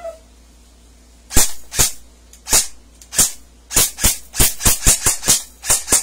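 A gun fired in a series of sharp close cracks, about fifteen shots coming faster and closer together toward the end, loud against a quiet background.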